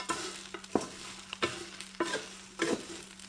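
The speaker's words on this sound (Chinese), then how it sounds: "炒香以后倒入炸好的鸡块，稍微炒一下就可以了" Fried chicken pieces stir-fried in a wok with Sichuan peppercorns and dried chilies: a soft, steady sizzle punctuated by several sharp scraping stirs of the spatula, close and fairly quiet, with no talking.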